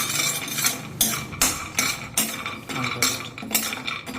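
A big spoon stirs almonds in hot ghee in a pan, producing rhythmic scraping clatters about twice per second, close and fairly loud, with a few quiet words spoken.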